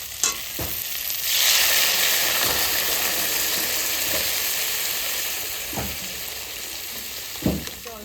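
Green chilli and cumin paste fries in a pan with a steady close sizzle, broken by a few sharp scrapes and knocks of a spoon against the pan.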